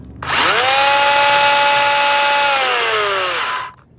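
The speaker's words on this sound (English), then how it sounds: "Let's go ahead and rev this thing up, see how bad these tires expand." Electric motor of a Proline UDR Hyrax RC truck revving up hard, a loud high whine that rises in pitch, holds for about three seconds, then drops off, close by with no speech.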